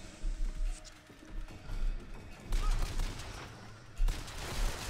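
Repeated gunfire bursts in the video game Bioshock Infinite, loud and close, firing in clustered volleys with short gaps and a sharp final burst near the end.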